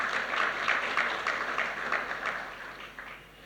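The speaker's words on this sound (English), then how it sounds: "Let's give her a round of applause." Audience applause for Heidi Hauf at an Australian Renewable Fuels Week event: a steady, dense wash of clapping from a crowd that holds level, then gradually thins toward the end.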